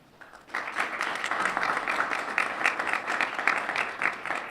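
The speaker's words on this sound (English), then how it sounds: "Let's give him a round of applause." A welcome reception audience applauds a guest representative, starting after a short pause and then holding steady as a moderate, fairly distant wash of clapping that lasts several seconds.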